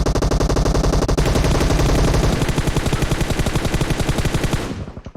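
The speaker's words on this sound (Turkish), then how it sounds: "Yukarı evde bir çatışma var. Oo sağlam çatışma." Gunfight in PUBG Mobile, loud rapid automatic gunfire in continuous bursts that gradually thin and fade out at the end.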